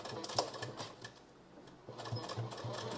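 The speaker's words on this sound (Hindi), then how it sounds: "यहाँ पर एक कच्चा सिलाई कर देना है, जिससे आप नीचे कमर पे फिर अच्छे से तुरपाई कर पाएंगे" Sewing machine running a long basting stitch on a princess-cut blouse, a close, steady mechanical whirr with rapid needle ticking that pauses briefly midway and then resumes.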